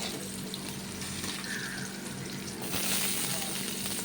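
Chopped onions frying in a pan for a spinach dish, a steady moderate sizzle with watery hissing that swells slightly toward the end, heard alone.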